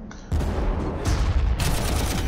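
A tank's main cannon fires and lands a hit in the Warhammer 40k Armageddon game, a sharp blast followed by crackling impact bursts and rumble over about two seconds, fairly loud.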